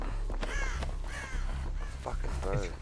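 Crow cawing in a video game, several harsh repeated caws over steady low background rumble, with a voice talking alongside.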